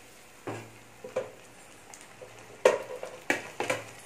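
Onion and tomato sauté in a pan for brinjal masala, giving a soft, faint sizzle broken by several light clinks and scrapes of a spoon stirring against the pan.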